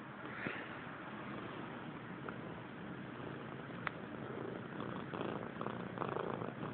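A cat purring softly and steadily up close, a low continuous rumble with faint rustling and small clicks.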